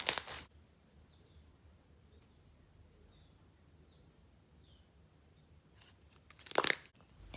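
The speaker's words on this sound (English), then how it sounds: "this bright yellow crunchy slime made up of micro foam beads, so it gives a really awesome light crunch sound" Bright yellow crunchy slime packed with micro foam beads being squeezed, giving two short crisp crunching bursts, one at the very start and one near the end, with near silence between.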